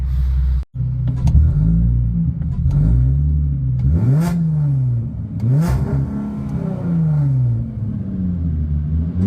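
A car with a new exhaust revs and accelerates loudly and close by. The deep rumble climbs and falls in pitch through repeated surges, with a brief cut near the start.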